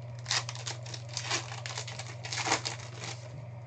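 Foil wrappers of 2017 Panini Donruss Certified Cuts football trading card packs crinkle and tear in steady close bursts over a low constant hum, with no talking.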